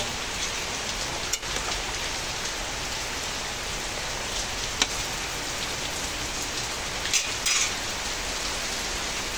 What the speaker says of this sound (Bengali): কি হারে বৃষ্টি হচ্ছে